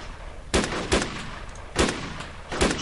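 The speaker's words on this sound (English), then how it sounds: "Just exchange of fire." Gunfire exchanged in a multiplayer shooter video game, loud sharp shots in uneven clusters, some paired close together, over continuous background noise.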